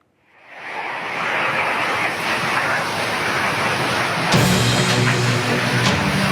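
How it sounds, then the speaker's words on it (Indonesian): Tornado winds tear through a village in Siulak, Kerinci, Jambi, a dense, roaring rush of wind that swells in quickly and holds loud and constant, buffeting the microphone, with a harder gust toward the end. "Angin puting beliung menerjang pemukiman warga di 2 desa di Kecamatan Siula, Kabupaten Kerinci, Jambi."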